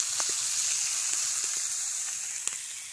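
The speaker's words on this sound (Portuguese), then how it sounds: "Como está a nossa fogueira, hein? Fritando." Steady, close sizzling hiss with scattered small pops and crackles, like food frying over an open fire. No one speaks.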